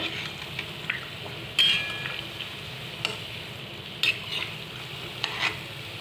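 A stuffed wheat flour sweet fries in oil while a spoon gently turns it. A soft continuous sizzle runs under three sharp spoon clicks against the pan.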